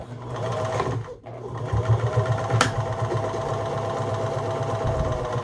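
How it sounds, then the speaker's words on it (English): A Bernina 811 sewing machine runs forward, reverses for a backstitch, then sews forward again. Its close, steady mechanical whir barely breaks, with one short dip in the middle and a brief click partway through. "we're going to start out in forwards, then we're going to reverse for our back stitch and go forward again."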